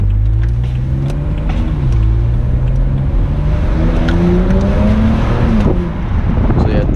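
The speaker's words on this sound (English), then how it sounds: "when you downshift, you get these small burbles" A 2008 BMW 135i convertible's twin-turbo engine rumbles loudly up close, the pitch dropping and rising between gears with soft popping burbles from the exhaust on downshifts.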